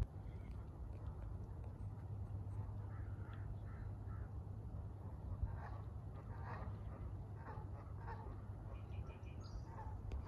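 Geese honk and call repeatedly at a moderate distance near a pond along the Rio Grande in New Mexico, scattered clamorous cries over a steady low background hum.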